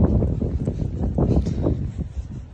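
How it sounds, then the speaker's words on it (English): Freezing wind buffeting the microphone outdoors, a rough low rumble with gusty surges throughout, close and steady. "It is freezing and windy."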